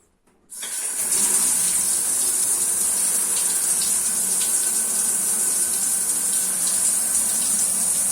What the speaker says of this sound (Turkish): şimdi Çerkezköy'de banyodan akan suyun size rengini göstereceğim